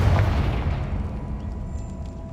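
The Confringo fire spell in the wizarding game Hogwarts Legacy erupts in a booming explosion, a heavy low blast up front that rolls and fades into a rumbling tail.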